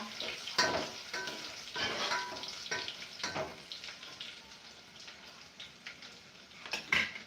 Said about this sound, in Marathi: लसूण छान परतून घ्यायचं